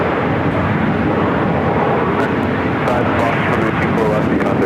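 Boeing 777-300ER airliner departing runway 24 left at LAX, a broad steady roar of jet engines heard from some distance, loud and continuous throughout with faint voices mixed in.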